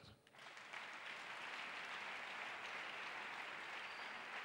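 A church congregation breaks into sustained applause that fills the room as a dense, even roar, loud and continuous after a brief quieter start.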